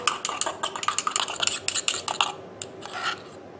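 A utensil scrapes and clinks against a bowl as homemade face cream is mixed, a quick irregular series of close tapping and scraping strokes that fade toward the end, with no talking.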